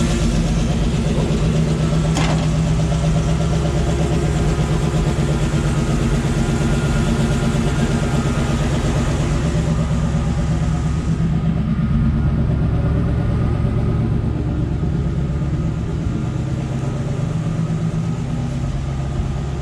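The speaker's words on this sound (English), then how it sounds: "The lifter noise is going away too." A Suburban engine fitted with an Edelbrock carburetor idles steadily with a low, even rumble and faint lifter ticking, heard up close and alone for the whole stretch.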